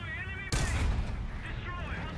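A tank cannon shot in War Thunder Soviet realistic battle gameplay, one sharp loud blast halfway in with a rumbling tail that fades under background game noise.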